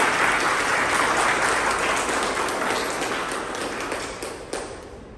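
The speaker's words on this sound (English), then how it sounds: "A big round of applause to both." Dense applause from a meeting audience at a Toastmasters club gathering, steady at first and then gradually thinning and fading over about five seconds.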